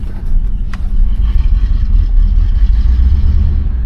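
A 1979 Oldsmobile Cutlass Hurst pulls away under light throttle, its engine giving a deep, steady, close rumble heard from inside the car, with a single brief click early on.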